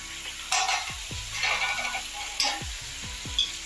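Potatoes and small tomato pieces fry in a pan with a soft, continuous sizzle while a spoon stirs them, giving several distinct scraping strokes at close range spaced about a second apart.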